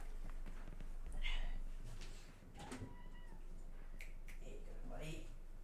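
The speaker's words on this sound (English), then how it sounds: "Just a quick had to put the cat out there." A cat meows several times, faint and a little distant, among soft footsteps and door sounds, with someone talking at times.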